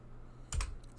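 Typing on a computer keyboard gives a few quick, close keystroke clicks in a short cluster, followed by a softer tap or two in an otherwise quiet room.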